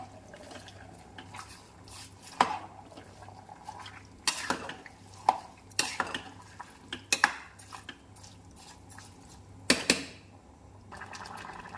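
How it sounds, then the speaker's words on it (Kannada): Rice and vegetables for veg pulao are stirred in a metal pot nearby, with sparse, irregular metallic clinks and scrapes over a quiet background and no talking. "ಮಿಕ್ಸ್ ಮಾಡೋಣ ಈಗ"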